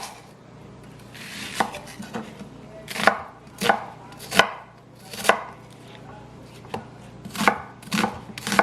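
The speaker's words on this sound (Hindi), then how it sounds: "तो ये मैं रफली चॉप कर रही हूँ उनको" A knife roughly chopping ingredients for shami kabab on a board, the thuds coming as a steady series of crisp, close strikes that are sometimes irregular, with no talk over them.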